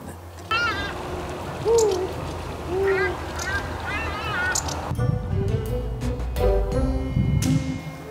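An owl calls from up in a tree, a few soft rising hoots spaced about a second apart in an open outdoor setting, followed by other rustling and clattering noises.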